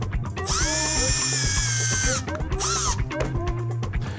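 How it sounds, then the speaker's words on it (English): A power drill with a step bit whines loudly in two long runs with pitch sliding as it bites, widening holes, separated by short pauses and mechanical clatter. "To make these holes wider, I'm going to use a step bit."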